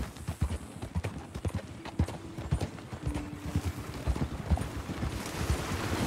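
Horse hooves clip-clop steadily along a road in the Red Dead Redemption 2 video game, a brisk, continuous trotting rhythm that stays close and clear, with a faint whinny and light game ambience underneath.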